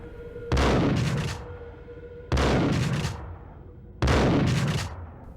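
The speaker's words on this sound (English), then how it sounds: "Guy's standing right there shooting me." Three loud gunshot bursts in the Max Payne video game, each a sharp blast with a short crackling tail, spaced about two seconds apart over a low background hum.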